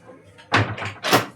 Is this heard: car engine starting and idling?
no